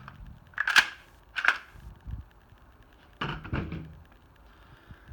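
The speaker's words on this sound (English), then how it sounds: "take this magazine cap, unscrew that, and your barrel will pop right off" A pump-action shotgun's magazine cap is unscrewed and the barrel pulled off, producing a few sharp metallic clicks and clacks, then a rattling slide of metal parts, close and otherwise quiet.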